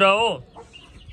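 A chick lets out a short, loud, high chirp close by, followed by faint background clucks and a brief voice.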